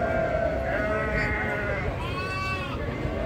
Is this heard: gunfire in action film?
no